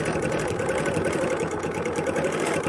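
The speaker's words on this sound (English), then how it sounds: "if you can hear that tapping sound, it's because I need a new needle on this machine" A sewing machine with a stitch regulator runs continuously with a worn needle, giving a rapid, even mechanical tapping and whirring at close range.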